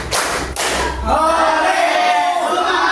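A classroom group claps in a counted sequence: a couple of loud collective claps at the start, then a sustained burst of crowd clapping and noise that fills the room.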